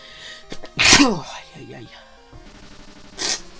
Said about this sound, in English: God, I'm gonna sneeze.